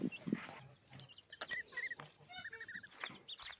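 Newly hatched goslings peep in a cluster of short, high, thin calls, close and fairly faint, with a few lower clucks and rustles among them and no talk.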